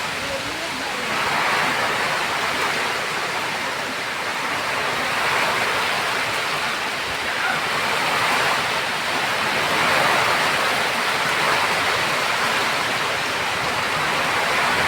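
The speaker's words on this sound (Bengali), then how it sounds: "হাওয়ার শব্দ দেখো" Strong gusty wind blowing at midday ahead of rain, a loud continuous roaring rush that swells and eases slightly throughout, with no other sounds standing out.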